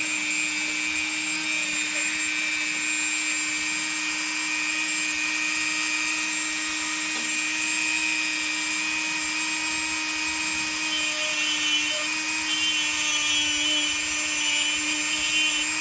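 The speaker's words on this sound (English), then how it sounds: "So let me get started on drilling this eye out here." Power drill boring an eye socket into a wooden white crappie fish carving, a continuous high-pitched whine held steadily at close range throughout.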